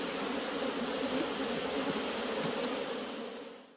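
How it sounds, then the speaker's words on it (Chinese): Honeybees buzzing among flower fields in Luoping, Yunnan, a dense continuous drone of many insects close by, steady and fading slightly at the end, with no voices. "蜜蜂这种并不起眼的小生命，承担着为人类三分之一的粮食、蔬菜、水果授粉的工作"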